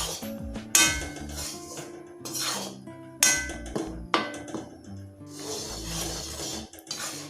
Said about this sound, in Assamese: অলপ টাইম মই ভালকৈ ভাজি ল'ম পিঠাগুড়িখিনি